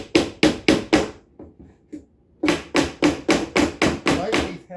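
An adjustable wrench taps out a nail on an heirloom drawer during repair, with a run of four sharp metallic knocks, a few softer taps, then a steady series of about eight even strikes.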